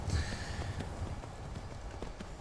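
Horse hooves clip-clop at a steady trot in Skyrim Anniversary Edition, a fairly quiet, even rhythm of game footfalls with no talking over them.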